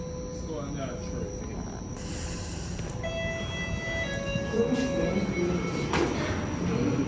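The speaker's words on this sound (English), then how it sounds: "I just missed the train." Toronto subway train pulling out of Cedarvale Station, a steady low rumble with rising whine tones and wheel squeal building over several seconds, heard from the platform amid station ambience with faint voices.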